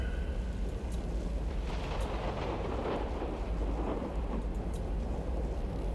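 Rolling thunder in the Total War: Warhammer video game, a sustained low rumble with crackling peaks that swells in the middle, heard alone at moderate volume.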